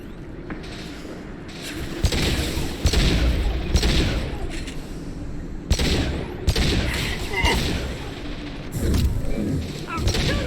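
Gunfire in the Mass Effect 2 video game, dense overlapping bursts of shots and booms during a firefight, continuous and loud, with no talk.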